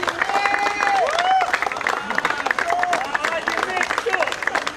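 A crowd applauds the team owners at a cricket tournament prize distribution ceremony, steady clapping mixed with someone talking over it and some crowd murmur.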